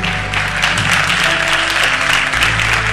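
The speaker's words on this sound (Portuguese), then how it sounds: "Aplauda com fé, aplauda com alegria" A church congregation claps together in sustained, dense applause, loud and continuous throughout with no pause.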